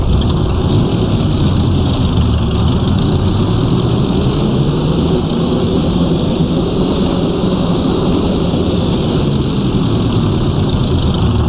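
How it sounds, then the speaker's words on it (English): 1923 Grand Prix car, the A22, driven at Goodwood Circuit in Assetto Corsa, its engine droning loud and steady from the cockpit with gently rising and falling revs and no talk. "just listen to the engine on this thing"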